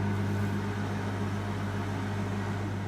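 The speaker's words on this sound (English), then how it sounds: "Put the microwave on for 1 minute." Microwave oven running for one minute with garlic cloves inside to loosen their skins, giving a steady, close mechanical hum and whir with a low drone throughout and no talking.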